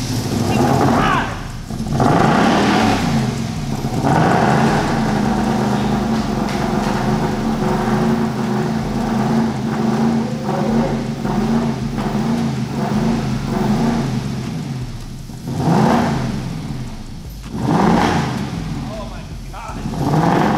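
A crashed Aston Martin Vantage engine is cranked and revved in bursts, swelling and fading several times, with loud excited voices shouting over the running motor.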